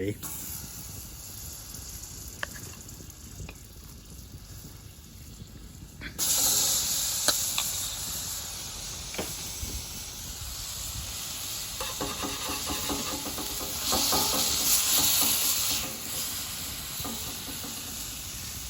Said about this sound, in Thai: จะลอง ทอดปลาดูนะครับ แบบไม่ใส่น้ำมัน